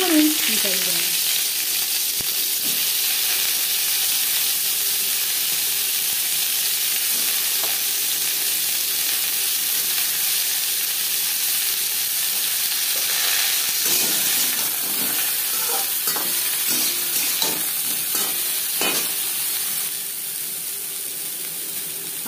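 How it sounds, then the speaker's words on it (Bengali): Cauliflower florets frying in hot oil, a loud, continuous close sizzle and hiss with occasional stirring clatter, steady throughout. "সবার প্রথমে ফুলকপি ভেজে নেব"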